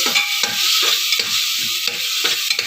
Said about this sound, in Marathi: आलू आले लसूण पेस्ट आणि कांदा छान भाजत आलेला आहे